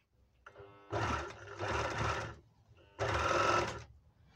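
Panavox 482DF overlock sewing machine, run from an old replacement pedal and stitching badly with yellow thread, whirring in two loud close bursts separated by a short pause, with no talk over it.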